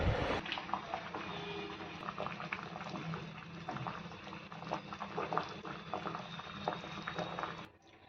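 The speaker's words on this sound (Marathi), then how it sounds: "एका टोपामध्ये त्याला स्वच्छ धुवून असा शिजायला घातलेला आहे. शिजताना याच्यामध्ये अर्धा चमचा आपण मीठ घातलेला आहे." Banana flower simmers in a pot of water with half a spoon of salt, a steady, close rolling boil of bubbling and popping that continues for the whole span before cutting off abruptly at the end.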